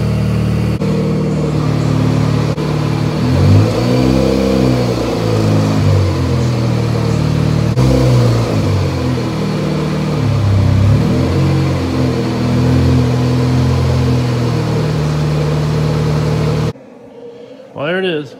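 A Mazda RX-7 rotary engine runs loud and close, rising and falling through repeated revs over a steady idle before cutting off abruptly near the end, followed by a brief faint sweep.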